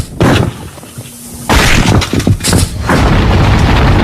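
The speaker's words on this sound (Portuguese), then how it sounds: "Você mandou muito bem apontando o canhão para a bola de boliche." A cannon fires a heavy projectile at a bowling ball in a collision demonstration, producing a loud boom followed by a sustained, rumbling burst of impact and breaking noise that keeps roaring to the end.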